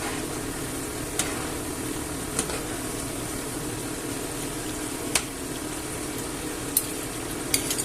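Potatoes and onions for a Spanish tortilla, Andalucia style, fry steadily in a pan with a continuous close sizzle, broken by a few sharp clinks and scrapes as they are turned over.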